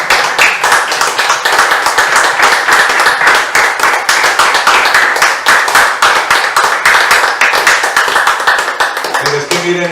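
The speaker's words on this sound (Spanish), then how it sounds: "Que le den un aplauso al Señor." Congregation at a church service clapping loudly and in rhythm, sharp, evenly spaced claps close by and sustained for about ten seconds, with a voice briefly heard near the end.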